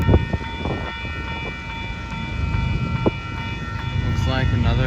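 A westbound intermodal freight train passes Barron Avenue with a steady heavy rumble and wheel noise, a sustained horn tone running throughout, and people talking nearby.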